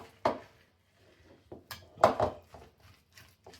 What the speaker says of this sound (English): So here we go with the apples that I'm just mixing in. It's a very, very thick batter